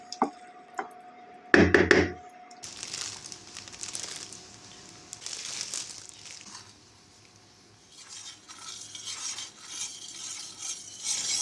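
A spoon briefly stirs and clinks through cornflour mixed into room-temperature water for chilli broccoli, with soft scraping and swishing followed by kitchen clatter and cooking noise.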